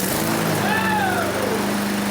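An old lawn mower engine that sat unused for about four years runs loud and close with a steady buzzing drone, its pitch briefly rising and sliding down before the sound cuts off abruptly.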